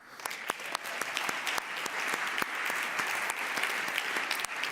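Audience clapping at a talk on European innovation, a dense, steady round of applause with sharp individual claps standing out, sustained throughout at moderate distance with no speech over it.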